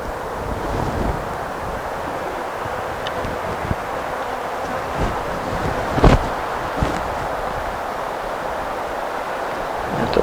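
Wind buffets an outdoor camera microphone beside beehive frames, making a constant loud rushing roar with gusty thumps and occasional sharp knocks.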